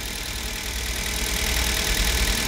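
A Hyundai Solaris with a 1.4 engine running on Toyota 5W40 oil idles with a knock, giving a steady close mechanical hum and rattle throughout with no talk.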